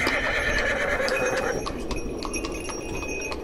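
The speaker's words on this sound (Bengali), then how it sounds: "চাবুক নেড়ে ঘোড়াটাকে খুঁচিয়ে দিয়ে বলল" A cart horse neighs loudly and close for about a second as it is prodded with a whip, followed by faint clinks and hoof sounds.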